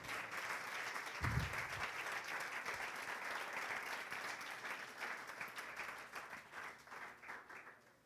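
A church congregation bursts into sustained applause during a sermon, a dense, even roar of clapping that holds for several seconds before tapering off, fairly distant and without speech over it.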